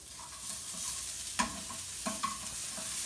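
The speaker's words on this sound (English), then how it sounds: "I'm gonna get some butter over here on this skillet" Butter sizzles in a skillet with a steady hiss, broken by a few sharp scraping clicks of a utensil against the pan, close and alone without voices.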